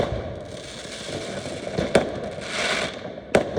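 New Year's Eve fireworks burst very close on a Dutch street, with a continuous crackling rumble broken by two sharp, loud bangs, heard from a bicycle.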